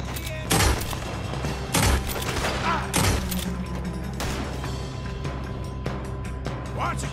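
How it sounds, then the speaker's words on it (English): Gunfight in the video game Red Dead Redemption 2: three loud, sharp gunshot cracks spaced about a second apart, then continued rumbling combat noise with faint background voices. "Looks like we're shooting our way out of here, fellas!"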